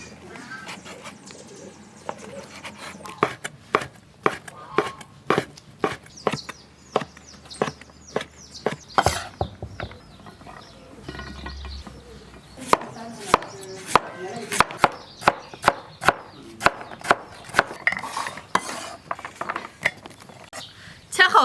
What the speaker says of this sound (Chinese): 现在把这些都切一下，把猪肝都切成条儿